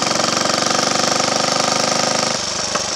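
A Triumph Tiger Cub trials motorcycle, unused for years, running on a test ride along a Roman road; its single-cylinder engine pulses loud and close in a rapid even beat, then drops abruptly to a lower, softer idle near the end.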